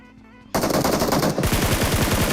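Rapid automatic gunfire from a video game erupts loudly after a brief quiet start, continuing as a dense, sustained burst of shots with no talking.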